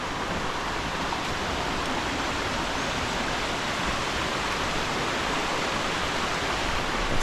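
Waterfall on a Costa Rica hiking trail: a steady, broadband rush of falling water, even and unbroken throughout, heard from a moderate distance with no voices.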